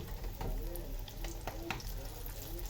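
Fish dropped into very hot oil in a pan, a steady dense sizzle and crackle running throughout, close and fairly loud with a few sharper pops.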